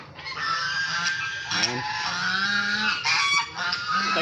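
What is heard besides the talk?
geese honking while being fed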